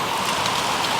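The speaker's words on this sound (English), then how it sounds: "It's the actual hailstorm." Hail pelting down in a sudden hailstorm, a dense, steady hiss of impacts that stays loud and constant throughout, with no voices.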